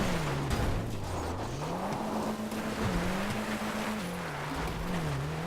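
Brioso, a tiny Italian car in a video game, drives off-road with a steady droning engine whose pitch rises and falls as it climbs and shifts, loud and close throughout with rough terrain noise underneath.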